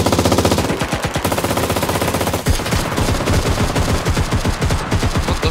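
Automatic gunfire in the battle royale video game Cuisine Royale, loud rapid bursts of shots rattling almost continuously, with a brief lull midway before the firing resumes. No one speaks.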